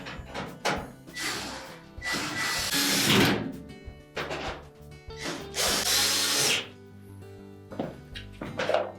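A power drill driving retaining screws on a Whirlpool range, with several whirring bursts of a second or two each, loud and close, separated by short pauses and light handling clatter.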